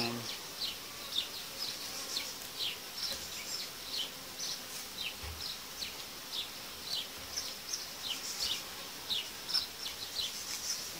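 A large honeybee colony buzzing steadily while hives are being united, giving a continuous high hum with scattered sharper buzzes from individual bees near and around the hive.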